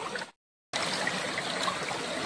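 Clear forest river water trickling over stones, a steady close rushing wash that briefly cuts out near the start and then continues evenly.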